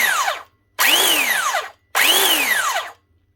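Motor of a faulty Arbortech Allsaw mortar saw run in three bursts, each a loud high whine that rises as it spins up and falls away on release, separated by brief silences.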